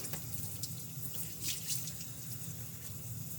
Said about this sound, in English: Make sure my hands are rinsed.